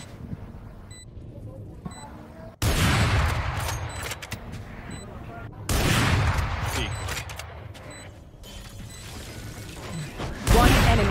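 Bursts of gunfire from the Valorant shooter game, several loud sustained volleys breaking in after quieter stretches, with a soft voice beneath.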